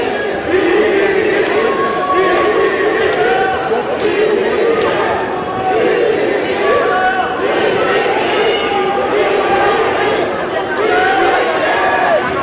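Crowd of party members at a People Power Party convention youth candidate speech, a steady loud mass of voices and jeering that continues throughout without a break.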